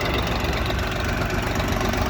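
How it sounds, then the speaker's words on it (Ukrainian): The three-cylinder diesel engine of a Jinma 244 mini tractor idles with a steady, low, knocking rumble, close and continuous throughout, with no talking. "Трьохциліндровий дизельний двигун."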